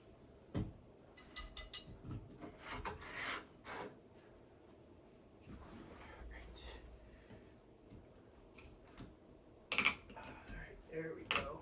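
A small chisel works on a part of a CLS DD conversion kit, giving a few faint, sparse scrapes and clicks spaced several seconds apart against a quiet background, with a sharper cluster near the end.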